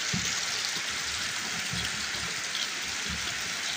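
Steady rain falling beside a mosque during flood control work, a constant broadband hiss of drops with a low rumble of running water underneath, continuous and unbroken.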